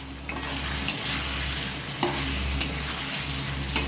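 Chicken kosha with fried potatoes stir-fried in a pan, a dense sizzle over a low steady hum, punctuated by occasional scraping strokes of a spatula, close with no talking.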